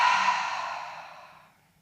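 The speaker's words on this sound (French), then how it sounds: "Prenez une grande inspiration par le nez. Gonflez le ventre, gonflez la poitrine. Et relâchez tout par la bouche." A long, deep breath let out through the mouth during a calm guided breathing exercise, a soft airy exhale that is loud at first and slowly fades away over about two seconds, heard alone.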